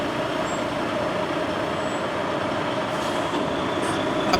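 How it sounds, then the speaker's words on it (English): A CSX freight train hauling container cars passes a railroad crossing in Columbus in January, giving a steady, loud rumble of rolling cars that continues throughout with no talk. "I saw a CSX container with a texture problem come across the crossing."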